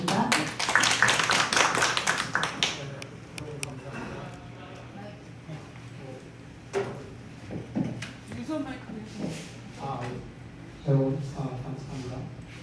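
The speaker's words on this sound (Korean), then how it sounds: "박수 부탁드립니다" Brief burst of audience clapping at a formal Korean ceremony hall, loudest at the start and fading within a few seconds, followed by scattered taps and a speaker talking over a quiet room.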